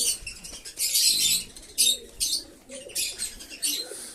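Giribaz pigeons of the White Mukhi and Kaldoma types coo and flap their wings in a loft where a male sits on eggs. Close wingbeat flurries and soft coos come in repeated bursts.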